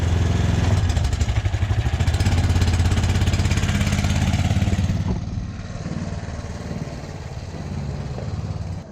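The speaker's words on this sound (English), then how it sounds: "All right, fire it up, Horny Tom." An engine on a Baja build vehicle starts and runs, a loud, rough, throbbing close-up rumble that eases to a lower, steadier idle halfway through.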